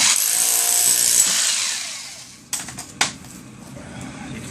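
A power drill bores into a brick wall, a loud steady high grinding drone for about two seconds that then fades, followed by a few sharp knocks and clatters.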